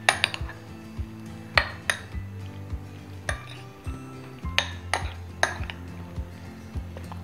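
Fries are tossed with chicken powder seasoning in a bowl, producing a string of sharp clinks and scrapes of a utensil against the dish at an irregular rhythm, with a faint tonal hum behind.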